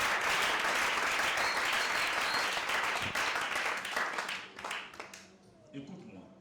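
A church congregation at a Sunday service applauds for the Lord in a dense, loud burst of clapping that thins out into scattered claps toward the end, with voices heard among it.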